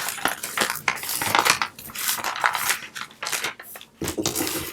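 Transfer tape being laid over cut vinyl for a Halloween wood sign, heard as close, crinkly bursts of tape rustling and crackling in an uneven rhythm.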